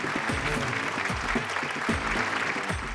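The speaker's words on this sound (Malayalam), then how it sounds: "നന്നായിട്ട് കൈയടിച്ച് പ്രോത്സാഹിപ്പിച്ചേ." A studio audience at a Malayalam TV game show claps steadily in encouragement, a dense, fairly close patter of many hands running throughout, with a voice faintly audible underneath.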